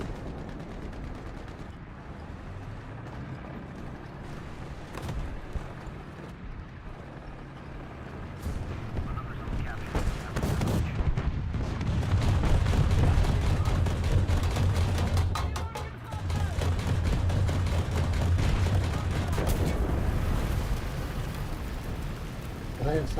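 A War Thunder tank battle among buildings, with heavy tank gunfire booming in bursts over a continuous low engine rumble that grows louder in the second half.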